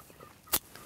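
A single loud gobble from a large flock of Merriam's wild turkeys in Nebraska, short and sharp against a quiet outdoor background, some distance from the listener.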